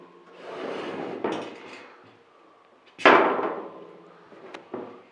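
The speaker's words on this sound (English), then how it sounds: "Now to slide the panels into one another." Prima gate panels being slid into one another on dowels, producing rough scraping slides with sharp knocks, a louder grinding push midway and a final clack, close up with no talk.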